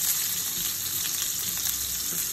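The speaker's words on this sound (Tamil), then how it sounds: "அது கொஞ்சம் வதங்க விட்டுட்டு, கொஞ்சம் அனியன் நல்லா வதங்க வேணும்" Chopped onions sauté in hot oil with mustard seeds, cumin and fenugreek, giving a loud, close, continuous sizzling hiss with no voices.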